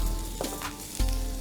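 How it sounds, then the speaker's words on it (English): Steak rubbed with olive oil sizzles loudly on a hot grill for a Tagliata alla Fiorentina, a steady crackling hiss close up with a couple of sharper pops. "just enough to sizzle over the grill"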